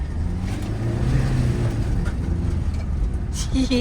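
A car being driven by a learner shifts into second gear and accelerates, its engine droning steadily up close with faint road rumble and a brief chirp near the end.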